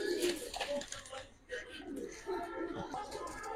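Domestic Giribaz and Budapest pigeons coo softly in a loft in short, low, repeated calls, with a voice faintly in the background.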